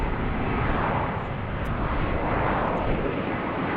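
A Delta airliner taking off from a BWI airport runway, a loud, steady broadband jet roar that swells and holds throughout, with no talk over it.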